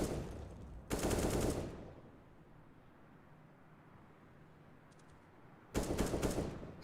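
Two loud bursts of rapid automatic gunfire in a professional Counter-Strike esports match, each lasting about a second, separated by a quiet stretch of low game ambience with a few faint clicks, and no speech.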